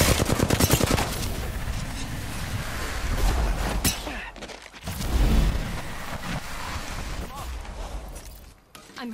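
Gunfire erupts in a firefight in the video game Apex Legends, with loud bursts of automatic fire and sharp single shots while a player is under attack and a voice talks over the action.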